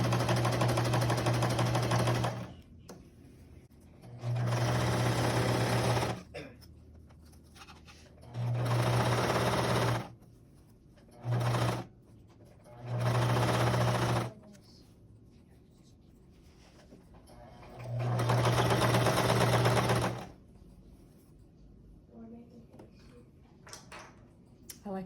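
A sewing machine hems t-shirt sleeves in several loud, steady whirring runs of one to two seconds each, separated by pauses with quieter handling sounds and some talk.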